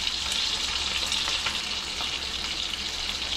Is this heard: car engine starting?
no